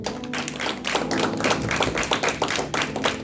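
A church congregation claps for the Lord during a Spanish-language sermon, producing sharp, rhythmic hand claps in a steady beat, close and lively, without talk over them.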